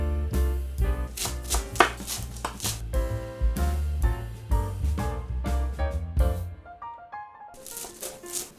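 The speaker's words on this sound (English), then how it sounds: "Cilantro, lots of it. I just rough chop it." A knife rough-chops a big bunch of cilantro on a board in quick, uneven bursts of crisp strikes, close and clear, pausing briefly near the end before resuming.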